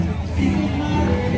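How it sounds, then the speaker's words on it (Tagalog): A crowd fills a night-life bar in Siargao with a dense, steady babble of many voices and a low musical hum underneath, close and continuous. "Ganito na yung crowd."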